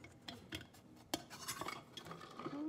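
A lid is worked onto a jar with string lights and a cord inside, giving close clinks and scraping twists of glass and metal, with a sharp tap midway and no talk.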